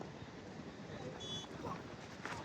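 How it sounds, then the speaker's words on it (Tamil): Strong wind buffeting the microphone at an outdoor cricket tournament match, a steady broadband rumble and roar filling the whole clip with no clear speech. "காற்று கொஞ்சம் அதிகமாக அடிக்கிறோம், கொஞ்சம் பேச முடியல"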